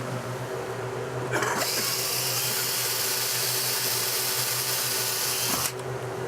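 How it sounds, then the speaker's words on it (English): A power drill whirs steadily for about four seconds drilling mounting holes for a KegData System, starting and stopping sharply, over a low background hum. "We're going to drill the holes, and we're going to go ahead and mount this"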